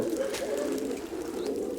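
Pigeons cooing on a wet, rainy January day, a steady low cooing that runs unbroken through the whole stretch at close range.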